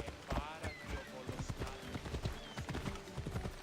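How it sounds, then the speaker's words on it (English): Hoofbeats of a summoned horse galloping in Assassin's Creed Odyssey, a rapid steady clip-clop rhythm running throughout, with a player talking over it. "Oh, I can summon my horsey? Horsey, horsey!"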